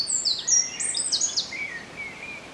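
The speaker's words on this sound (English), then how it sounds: "It's also lovely, and listen to the birds." Several birds chirp and whistle in short, high, overlapping phrases over a quiet forest background near a cliff.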